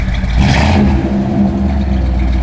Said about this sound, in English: Good sounding Flowmaster exhaust. Got a little rumble to it.